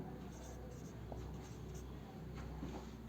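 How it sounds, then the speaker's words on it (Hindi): Marker squeaking and scratching across a board in red ink, a soft steady scrawl with a few brief taps, close by under faint room hum. "चलो रेड से लिखते हैं"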